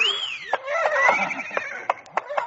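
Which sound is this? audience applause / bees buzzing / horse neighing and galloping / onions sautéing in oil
horse neighing and galloping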